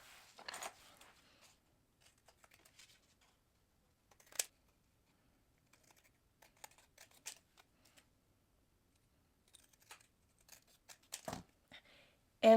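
Scissors make quiet, close snips through a paper card frame, scattered in small clusters separated by long silent gaps, with a sharper crisp cut near the end.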